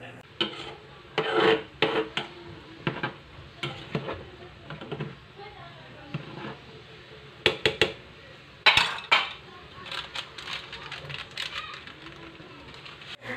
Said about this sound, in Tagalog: hahaluin ko nga yan para nga din matunaw yung mismong Knorr cubes